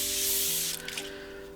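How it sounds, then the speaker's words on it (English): A short hiss of Evian water mist sprayed onto a face from a spray can, bright and close, fading after about half a second against a faint steady tonal hum. "spray my face with the Evian water"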